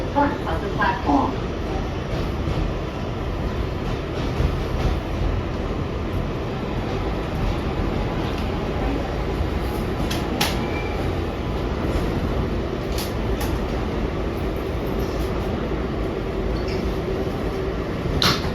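An R142A car on the NYC Subway 6 line rumbles steadily along the track, with continuous close rolling noise, occasional faint squeals and clanks, and people talking faintly beneath it.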